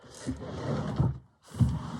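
Someone rummages through a drawer for art supplies, giving a soft, continuous rustling and scraping of jumbled objects that briefly stops, then resumes close by, with no speech.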